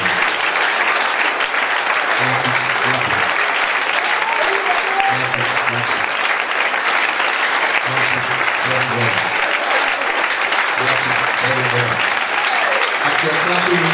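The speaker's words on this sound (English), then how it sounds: "Then clap that hand for Jesus Christ." A congregation claps loudly and continuously in praise of Jesus, a thick sustained roar of hands, while a voice speaks and calls out over the applause.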